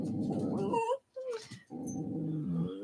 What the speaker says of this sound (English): there's definitely a dog walking by